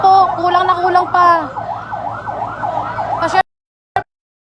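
A fire truck siren wails in repeated rising-and-falling sweeps at a large fire in Villar City, loud and close, with a crowd's voices and street noise underneath before it cuts out abruptly.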